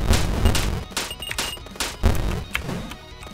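Repeated booming blasts and crackling bursts go off in quick irregular succession, loud and close, with no talking, from random explosions in the video game Cavern Kings.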